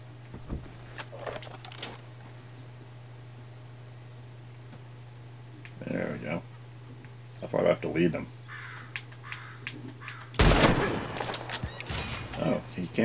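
A few sharp gunshots in the video game Red Dead Redemption 2 crack out at irregular intervals during a stagecoach heist, one loud blast near the end, over a low steady hum and some brief bird-like calls.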